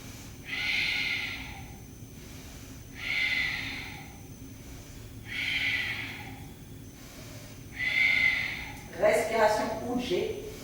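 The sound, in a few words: Ujjayi breathing, long and deep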